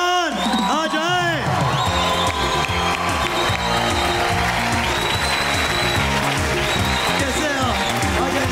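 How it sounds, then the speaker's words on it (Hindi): A television game show studio audience breaks into applause and cheering as guests arrive, dense clapping with whoops over loud background music, following a brief voice at the start. "आप सबकी भरपूर तालियों में, भाई धुएंदार तालियों में"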